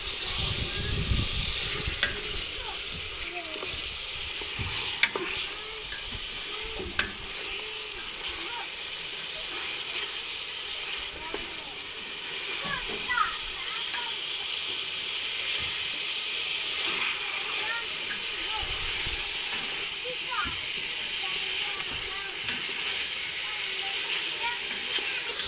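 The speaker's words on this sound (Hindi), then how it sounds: "अभी हम इसमें ऐड करेंगे चिकन, तो फिर हम इसको अच्छे से जो है ना फ्राई करेंगे चिकन को।" Chicken frying in a pot for pulao, a steady close sizzle and hiss with occasional stirring knocks, running continuously under intermittent talking.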